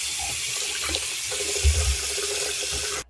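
Warm water pours steadily from a faucet into a filling sink, a continuous close rushing hiss with a gentle low gurgle beneath, unbroken until it stops abruptly at the end.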